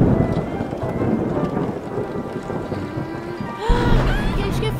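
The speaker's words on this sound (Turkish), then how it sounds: "Keşke fırtına artık bir dursaydı." A storm in a Turkish-dubbed Caillou cartoon pours steady rain with rumbling thunder throughout, and a heavier rumble swells near the end; a voice briefly cuts in over it.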